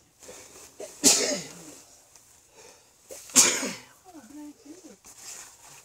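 Two loud, close sneezes burst out a couple of seconds apart, each a sharp explosive rush, followed by brief speech-like murmuring.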